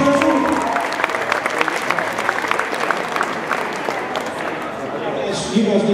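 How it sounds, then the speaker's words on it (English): A cosplay contest crowd gives another round of applause: loud, continuous clapping and cheering from a packed audience, steady for several seconds and tapering slightly at the end. "Give one more round of applause."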